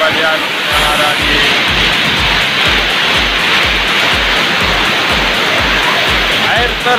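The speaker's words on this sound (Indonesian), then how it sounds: "air terjun di Jongjong." Waterfall at Batu Jonjong in Batu Tunggal village, a loud, constant roaring rush of falling water filling the whole stretch, with a low rhythmic thumping underneath.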